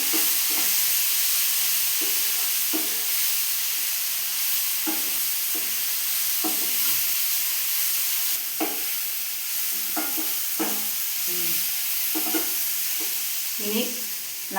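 A spoon stirs a mango dish with turmeric powder in a pan, giving soft intermittent scraping strokes over a constant background sizzle and hiss.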